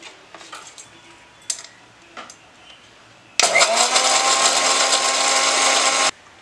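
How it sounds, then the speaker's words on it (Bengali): After a few light clatters, an electric grinder starts up loudly and runs steadily for about three seconds, whirring as it grinds garam masala into a paste, then cuts off abruptly. "বন্ধুরা দেখো, পেস্ট করি গরম মশলা তৈরি করবো।"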